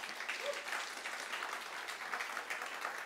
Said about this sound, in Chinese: 我们今天还在给他拍拍手了